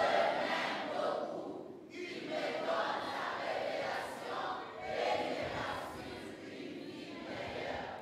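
A worship congregation shouts and acclaims together, a dense, loud swell of many voices rising and falling in waves.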